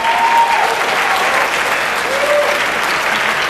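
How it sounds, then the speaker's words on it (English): A keynote audience applauds steadily, a dense wash of clapping that stays loud and even from start to finish. "Let's give them a round of applause."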